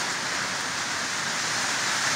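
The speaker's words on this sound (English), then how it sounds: "The sound of rain." Rain falls on a workshop roof as a constant, dense patter and hiss, fairly loud and unbroken, with no talking.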